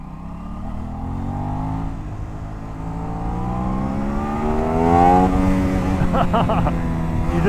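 A 2025 Aprilia RS 660 parallel-twin sport bike revs hard through first gear, the engine note rising steadily and loudly with a rough, buzzy pitch climbing toward the shift.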